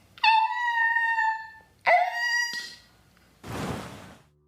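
A dog yelps as a story sound effect: a sharp high whine, a second shorter yelp, then a breathy noisy burst, all close and alone with no talk.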